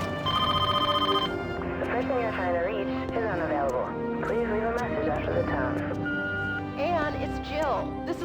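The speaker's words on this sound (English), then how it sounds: "Come on, Anne, quit being the antisocial and pick up the phone sometime" A telephone in the Trespasser video game rings in a brief burst at the start, then a voice talks for the rest of the stretch.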